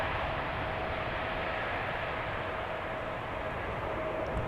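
A China Southern Cargo Boeing 777 freighter taking off at Amsterdam Schiphol, a steady low rumbling roar of jet engines carried from a distance, with no voices.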